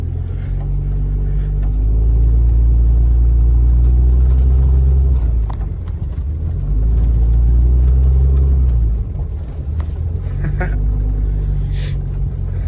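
A 1000 HP Cummins diesel truck engine drives on the road with a deep, loud, steady rumble that swells twice as it pulls, heard close from inside the cab.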